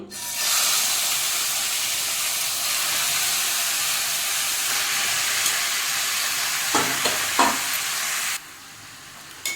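Mutton rubbed with salt and turmeric frying in hot ghee on a tawa, a loud steady sizzle with a couple of brief stirring scrapes near the end before it quiets.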